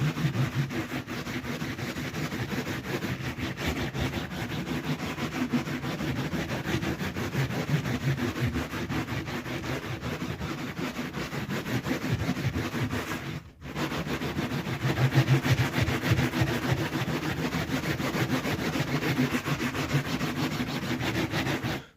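Hands rubbing wet felt fibers for a felted flower, a continuous close scrubbing and rubbing noise with steady rhythmic strokes, briefly pausing midway before carrying on.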